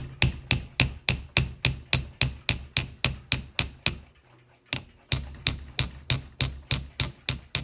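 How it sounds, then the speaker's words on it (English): Rapid, steady metallic hammer blows from a convex-faced hammer ring out close by on metal, evenly spaced, with a brief pause midway before the rhythmic striking resumes. "To feather the end with a smooth transition, a hammer with a convex surface is needed."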